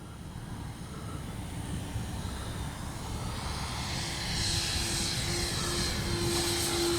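A propeller airplane drones steadily overhead, its engine hum growing slightly louder and higher-pitched as it passes.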